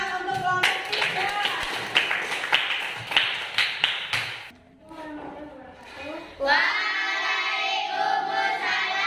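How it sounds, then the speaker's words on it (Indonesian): Classroom students clap for a presenting group in quick, loud rhythmic bursts that stop partway, followed by a voice speaking alone. "Tepuk tangan untuk kelompok 3."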